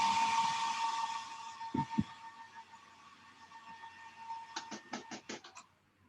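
A hair dryer blows over watercolor paint with a steady whirring hiss that fades out, while sharp knocks and a quick run of clicks sound nearby.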